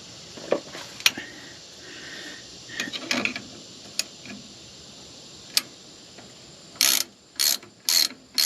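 A threaded fitting for an Edelbrock Pro-Flow 4 fuel system, its threads wrapped, is screwed in by hand, giving scattered faint ticks and clicks followed by four short, sharp ratcheting bursts near the end, with no talk.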